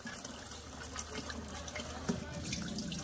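Tap water runs in a steady, quiet rush while raw meat for pakoras is rinsed in a sink.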